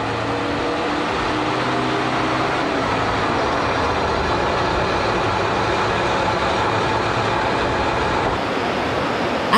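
A Sanriku Railway Kita-Rias Line train runs steadily between Tanohata and Kuji, its continuous rumble and rolling wheel noise loud and close throughout, with no voices.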